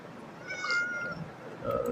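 A cat meows in the Minecraft video game, a single drawn-out mew followed by a brief second call, fairly faint over a low background with no talk.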